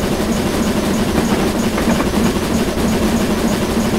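GWR King 6023 steam locomotive running in the video game Train Simulator, a continuous loud low rumble and mechanical drone of the engine with steady rolling noise, no voices.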